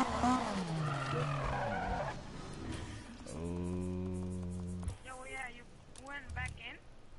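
Lamborghini drifting in the Need for Speed racing game, tires squealing in long sustained screeches and engine revving between slides, loud and close, with a voice talking over parts of it.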